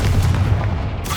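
Confringo spell explosion in the Hogwarts Legacy video game, a loud, dense, rumbling blast that sustains through the whole moment, with no talk over it.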